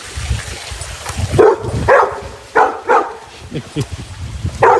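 A dog at a house beside a canal barks in a run of loud, sharp woofs spaced about half a second apart, close by, with running water and a person's voice underneath.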